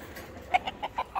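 An aggressive rooster clucks in a short run of five or six sharp, closely spaced calls, fairly near and clear over a quiet background.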